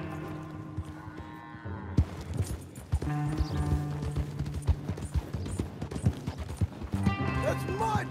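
Horse hooves clop on the ground in Red Dead Redemption 2, a busy run of irregular hoofbeats mixed with cattle lowing and other farmyard animal sounds, moderately loud and close.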